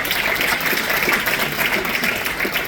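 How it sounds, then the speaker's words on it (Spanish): A church congregation applauds in a steady, dense patter of many hands, fairly loud and continuous throughout. "Un fuerte aplauso, Señor."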